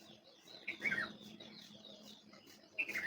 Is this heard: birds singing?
yes